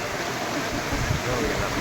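Floodwater from a cloudburst-swollen river rushes seven to eight feet deep over a bridge, making a loud, continuous roar with low rumbling surges underneath.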